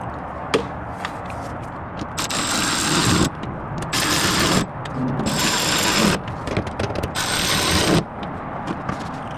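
Power tool tightening a bolt on a wheel well liner install on a 2025 Ram 1500 truck, loud ratcheting bursts in four runs of one to two seconds with short pauses and faint clicks between.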